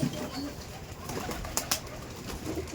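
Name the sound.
pigeons cooing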